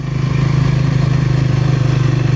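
A motorcycle idles and pulls away from a lake campground in a national forest, its engine a steady, loud, close rumble that continues without a break.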